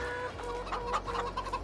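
About 360 chickens housed in a barn cluck and murmur together in a dense, continuous chorus, with individual clucks and squawks rising close by over a low, steady background hum.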